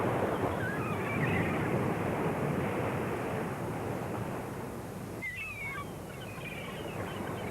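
Pacific Ocean surf where Redwood Creek meets the sea, a steady broad wash of breaking waves with wind, and a few bird calls cutting through the roar.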